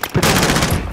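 Rapid, dense gunfire from Call of Duty: Modern Warfare, one loud continuous burst lasting about a second, close and heavy.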